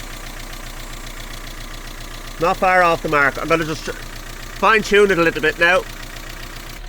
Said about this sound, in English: the engine is sounding an awful lot better now